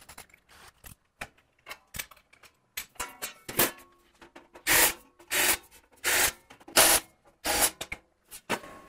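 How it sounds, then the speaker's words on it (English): A countersink deburrs freshly drilled holes in sheet metal with a series of short scraping grinds, brief at first and then longer, louder bursts in a steady rhythm, close by with no voices. "the countersink does a great job of deburring the holes"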